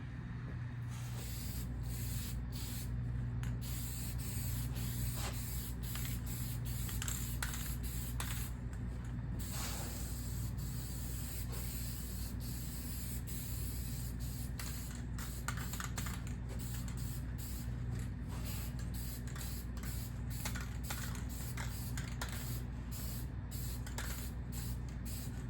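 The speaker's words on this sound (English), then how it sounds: "This is the guide coat" A guide coat being sprayed onto Karmann Ghia bodywork makes a steady, continuous aerosol hiss with a few faint clicks, fairly quiet and alone throughout.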